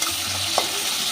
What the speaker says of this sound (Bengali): টমেটোটা অল্প ভেজে নেব।